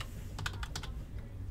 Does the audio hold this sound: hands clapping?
no